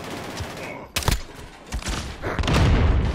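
Video game gunfire: a loud sharp shot followed by a rattling volley of further shots and thumps against a busy background.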